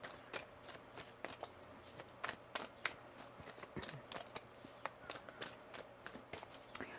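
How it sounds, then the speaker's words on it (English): Tarot cards are shuffled quietly and close by, with a run of quick, irregular riffling flicks and taps. "One more shuffle here."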